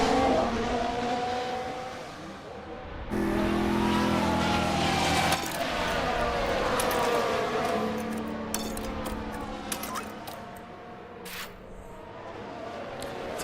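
F1 Manager 2024 race cars restarting after a safety car period at the Spanish Grand Prix, engines revving and accelerating in a rising, sustained roar that swells and shifts in pitch, fairly loud with no talk.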